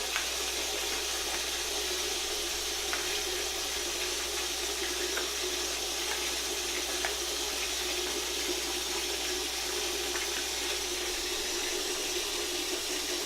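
Water runs steadily from a tap, a constant close splashing rush that continues without a break, with no voices.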